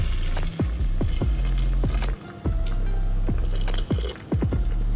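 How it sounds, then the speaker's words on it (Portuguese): Boiling water poured into a pan over chicken breast, a steady liquid rush with repeated glugging drops and splashes, fairly loud and close, with a few brief pauses in the flow. "E agora a água fervendo, nós vamos colocar nele."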